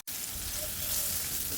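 Onion frying in a pan with curry leaves gives a steady, close hiss of sizzling that carries on without a break and has no talking over it.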